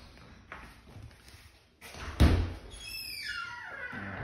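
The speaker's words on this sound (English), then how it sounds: "I'm gonna unlock this door." A latch clicks and a door thumps open, followed by a creaking swing and a faint rising squeak as it moves on its hinges.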